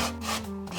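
A lemon rubbed against the fine side of a metal box grater for zest, giving a steady close scraping rasp that swells and eases in short back-and-forth strokes.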